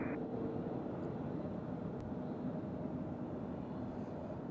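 Airliner taking off at Nashville International Airport, a steady distant engine roar rumbling through the whole stretch without voices.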